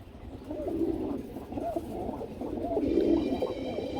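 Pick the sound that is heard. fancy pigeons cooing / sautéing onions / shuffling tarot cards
fancy pigeons cooing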